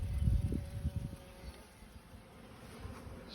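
Honey bees at a weak, starving hive that has just been fed syrup make a low, soft buzzing hum. It is fuller at the start, then settles into a steady faint drone, with no talk.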